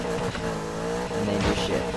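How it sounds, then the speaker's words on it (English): A car, held on the e-brake and revved to the maximum, launches at a drag strip with a loud engine roar and tire squeal. The engine surges and skids for two seconds, close and intense. "You hold your e-brake, you rev your engine to the max, and then you just go."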